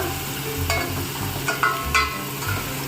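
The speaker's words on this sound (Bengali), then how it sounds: "আমি এর মধ্যে চিকেন কিউব করে কেটে রাখা সেগুলো দিয়ে দিচ্ছি" Chicken cubes dropping into a pan of fried chopped onion and garlic for homemade chicken momo filling, with a steady sizzle and a few louder stirring scrapes and clatters, no talking.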